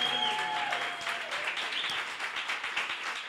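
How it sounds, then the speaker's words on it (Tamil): Applause from a church congregation at a Sunday service, a dense wash of many hands clapping together, steady and fairly loud throughout, with a faint sustained tone beneath at the start. "இவங்களுக்கு ஒரு நல்ல ஒரு கைத்தட்டு கொடுங்க."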